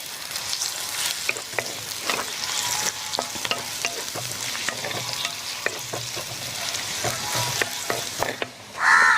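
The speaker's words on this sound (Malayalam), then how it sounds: "ഈ സബോള നല്ലോണം ഒരു ഗോൾഡൻ കളർ ആവണ വരെ തന്നെ നമുക്ക് ഒന്ന് വഴറ്റിയെടുക്കാം കേട്ടോ" Thinly sliced onions sautéing in hot coconut oil for a Kerala-style chicken roast: continuous sizzling broken by frequent utensil stirs and scrapes, close and alone.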